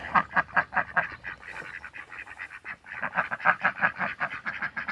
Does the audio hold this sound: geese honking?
yes